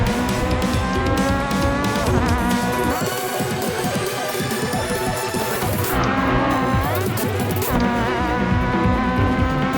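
A car crashes and flips repeatedly in a racing video game, with loud, continuous engine roar, tire noise and crash impacts layered into a dense, busy mix.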